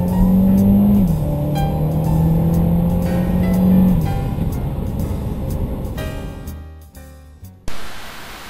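A car drives along with a droning engine hum and steady road noise that fades and cuts out toward the end, with no voices over it.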